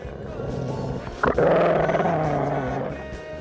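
A dog growls low and steadily up close, rising into a rumbling snarl partway through, with no talking.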